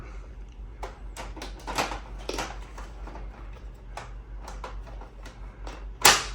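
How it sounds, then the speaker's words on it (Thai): Plastic rustling and scraping clatter, ending in one sharp, loud click as the drum unit of a Brother MFC-L2715DW printer snaps firmly into place. "ทุกครั้งที่ใส่จะมีเสียงนี้นะครับ ถือถือว่าเป็นล็อก"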